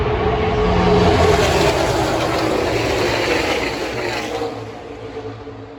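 Race cars at Talladega during the 2020 YellaWood 500 roar past in a dense pack, a loud, sustained engine drone that swells early and then slowly fades as the field moves away.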